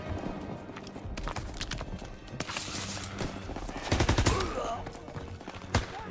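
Bursts of rapid gunfire and heavier shots ring out in Call of Duty: WWII, mixed with battle noise and a loud volley near the end.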